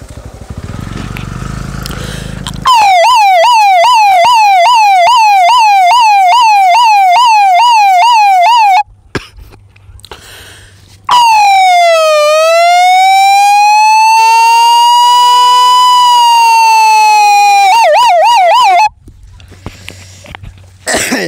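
A boy imitates an Indian 108 ambulance siren with his voice, first a fast rapid wail cycling up and down, then a slow long rising and falling whoop, loud and close, with brief quiet gaps between.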